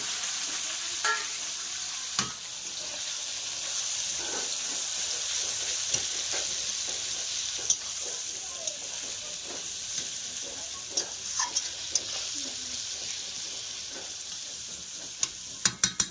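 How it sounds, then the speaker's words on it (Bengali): Onions and tomatoes fry in a hot pan with a steady close sizzle, broken by occasional sharp scrapes and clinks of a spoon stirring, with no talking. "পেঁয়াজগুলো লাল লাল করে ভাজা হোক"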